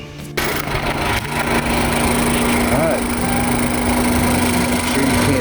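A 2013 Ford Focus engine idles steadily with its radiator cooling fan whirring over it and the AC on, a continuous mechanical drone with a faint whine, close by.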